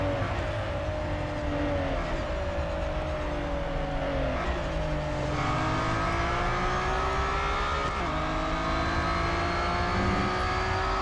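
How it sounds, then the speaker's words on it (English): A Mazda 787B racing engine in Real Racing 3 holds a steady, loud high-pitched rotary drone, its pitch climbing through the gears with brief dips at each shift, continuous for the whole stretch with no talk. "Your old twangy engine."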